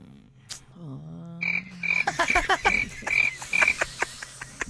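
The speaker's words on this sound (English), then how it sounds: "Those crickets are so loud." Loud chorus of insects and frogs at night, with repeated bright chirps and croaks pulsing close by, occasional rising calls, no talking over it.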